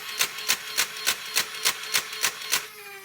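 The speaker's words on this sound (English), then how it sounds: "The second click activates the motor, which will start firing the blaster and moving the chain." A motorized Nerf Vulcan blaster fires after the trigger pull: about nine sharp, evenly spaced mechanical clacks come in quick succession, close and loud, and end with a brief fading motor whir.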